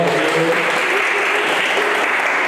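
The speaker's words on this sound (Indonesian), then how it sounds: "boleh tepuk tangan juga buat Dani dong" Audience applause at a Christian seminar on marriage agreements, a dense steady clapping that fills the whole stretch at an even level, with a faint voice briefly underneath.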